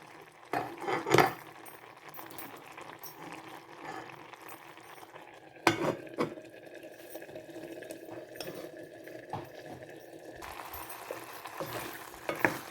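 A pot of long bean and potato curry bubbles and simmers steadily, with a few sharp clatters of a utensil against metal near the start and midway.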